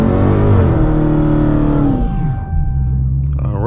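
A 2020 Dodge Challenger Hellcat Redeye's supercharged engine roars loud and close during a line-lock burnout, holding a heavy rev that rises, then settles into a steady deep rumble.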